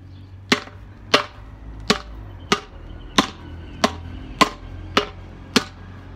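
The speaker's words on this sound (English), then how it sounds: "I'm just hitting it kind of randomly, whacking away" Fists strike a training tyre in nine sharp, evenly spaced thwacks, each a crisp loud impact with a quick fade, separated by brief quiet gaps.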